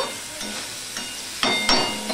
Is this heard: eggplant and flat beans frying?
yes